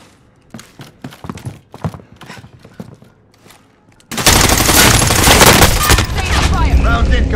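Call of Duty gunfire on PS5: scattered single shots and short bursts over game radio chatter for the first four seconds, then a sustained, loud barrage of automatic fire and explosions filling the rest.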